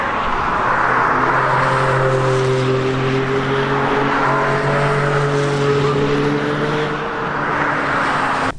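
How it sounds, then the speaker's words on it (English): A loud, continuous engine roar from race cars at speed around a racetrack in Germany, the pitch shifting and rising as they run, with no pause. "just getting a quick glimpse of how fast and insane these cars are"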